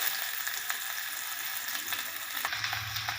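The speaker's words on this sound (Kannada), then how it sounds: "ಎಣ್ಣೆ ಬಿಸಿಯಾಗಿದೆ, ಒಗ್ಗರಣೆ ಹಾಕ್ತಾಯಿದ್ದೀವಿ." Mustard seeds and onion hit hot cooking oil for a tempering, giving a faint, steady sizzle and crackle close by with a few small pops, no voices.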